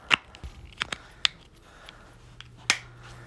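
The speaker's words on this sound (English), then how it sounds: "you may hear me click it on right now" A heart rate chest strap clicks into place: several sharp, close snaps spread across a few seconds in a quiet room, with a faint hum beneath.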